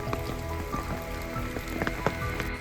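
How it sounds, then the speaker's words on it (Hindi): Heavy monsoon rain falls on the Roopkund and Bedni Bugyal mountain trek, a dense, continuous patter with sharper drips and splashes close by, and no voices. "अभी बहुत ज़्यादा बारिश हो रही है"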